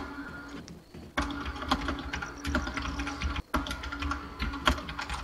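Fast, steady typing on a computer keyboard carries over a voice chat during a Rainbow Six Siege match, a dense run of close clicks with one brief pause partway through.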